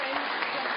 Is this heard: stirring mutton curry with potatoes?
no